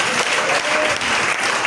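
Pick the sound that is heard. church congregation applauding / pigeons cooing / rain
church congregation applauding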